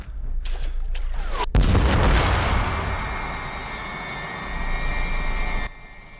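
A bombshell explosion in the Ad Infinitum video game hits a soldier in the trenches near the front line, starting as a loud close boom and then fading into a long rumbling roar with ringing tones and no talk.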